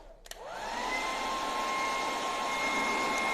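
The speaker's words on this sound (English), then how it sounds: "Let me just hit that with a hairdryer a bit." A hair dryer switches on after a brief click and blows steadily with a loud, even whoosh and a constant high whine, no voices.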